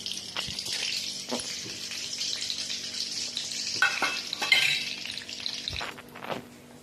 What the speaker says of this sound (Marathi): मस्तपैकी तूप टाकलं तर त्याच्यामध्ये आता त्याच्यामध्ये आपल्याला ड्रायफ्रूट सगळे भाजून घ्यायचे काजू बदाम टाकायचे